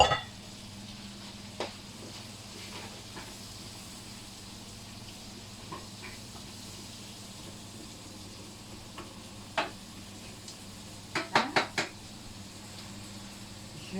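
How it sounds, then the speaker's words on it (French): Onions cook for paella in a pan, giving a faint, steady low sizzle with a few scattered clicks and scrapes and a short cluster of sharper taps near the end. "Je rajoute mes oignons pour que ça puisse cuire en même temps."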